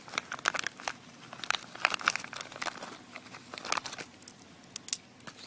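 Plastic packaging from a Traxxas Rustler alloy steering bellcrank kit crinkles and rustles in irregular close bursts as the parts are pulled out, with no talk.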